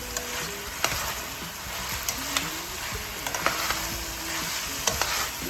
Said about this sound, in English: To saute the mushrooms